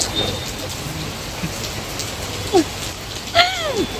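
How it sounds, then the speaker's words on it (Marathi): Heavy rain pours down in a steady, dense hiss, with a few faint bird chirps breaking through near the end. "असला खतरनाक पाऊस पडतोय"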